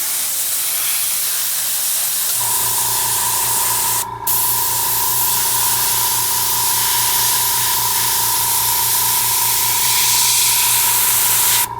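Spray paint hisses steadily onto a King Tiger tank diorama, a loud continuous close-up spray running almost the whole clip with a brief pause, joined by a steady compressor-like hum.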